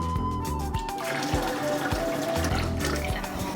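Dissolved mixture is poured into four quarts of water for a Cubano pork brine, giving a steady, close splashing and filling sound with a few brief clinks throughout.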